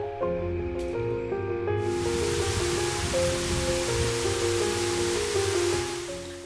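Waterfall at Natural Bridge in Springbrook National Park pouring into a basalt cave, a steady broadband rush that swells in after a moment and holds, with tonal music layered over it.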